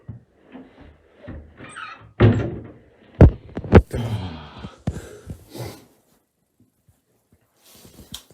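An interior door in a house opening as people step into a small corridor, with a few sharp thuds and rattles, close by, mixed with brief voices and footsteps before the scene falls quiet.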